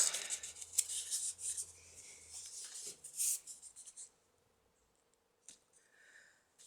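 A piece of stamped card is cut by hand close up, with soft scratchy rubbing and snipping sounds in short bursts, then a pause and a few faint later scrapes, quiet and without talk.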